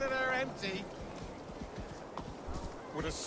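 Horse hooves clip-clopping in the video game Assassin's Creed Valhalla, a quick steady trot of soft thuds heard fairly close under a faint game backdrop after a brief tonal sound at the start.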